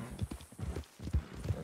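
Horse hooves clip-clopping in a ranch roleplay video game, a steady rhythmic trot of repeated thuds, moderately quiet and continuous throughout.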